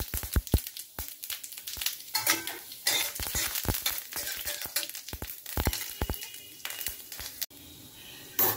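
Spices are tempered in a kadai of very hot mustard oil for a chutney: a quiet crackling sizzle punctuated by sharp clinks and scrapes of stirring against the metal pan.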